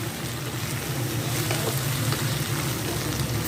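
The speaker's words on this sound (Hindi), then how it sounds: "सिर्फ 1 से 2 मिनट के लिए हमें तेज़ आंच पर पकाना है" Dry chili chicken frying in a pan over a high flame, giving a steady, even sizzle that runs unbroken throughout at moderate loudness, with no voices.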